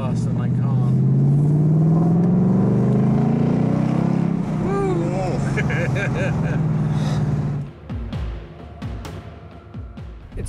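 Deep, loud exhaust rumble from a bright orange 2018 Ford Mustang with a manual gearbox in track mode, a steady low drone with a rising note that cuts off sharply near the end, with bursts of talk over it.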